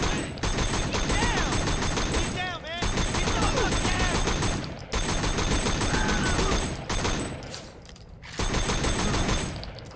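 Bursts of gunfire in the Sleeping Dogs funeral mission come in rapid fusillades separated by short pauses, with game sounds layered underneath and someone talking over the shooting.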